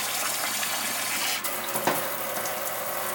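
Water gushes steadily from a tap, a continuous close hiss, with a brief splash as the flow shifts.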